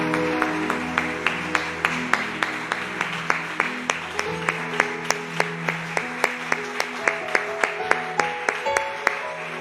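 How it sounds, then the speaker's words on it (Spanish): A church congregation claps in a steady, even rhythm, many hands beating together in unison at a brisk tempo, moderately close, over a faint background murmur. "Le damos un aplauso al Señor,"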